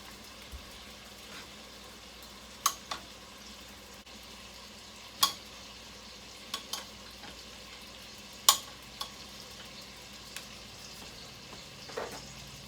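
Pork and smoked sausage fry quietly in a pan, giving a soft steady sizzle broken by occasional sharp pops and spatters, with no talking.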